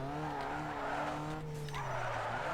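Nissan Sentra drifting in Need for Speed Underground 2, engine droning steadily while tires squeal and skid through a long slide, loud and continuous with a pitch shift near the end.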